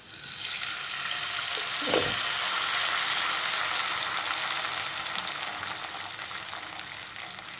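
Tamarind water mixed with dissolved asafoetida is poured into hot oil for a green chilli pickle, setting off a loud, steady sizzle and crackle after a brief splash of pouring, fading slightly as it settles.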